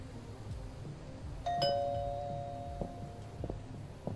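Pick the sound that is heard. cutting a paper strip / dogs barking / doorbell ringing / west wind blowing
doorbell ringing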